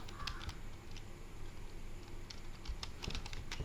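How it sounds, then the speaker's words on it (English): Typing on a computer keyboard, quick irregular clicks and taps close to the microphone over a faint background hum. "In here you need to type Disable HW"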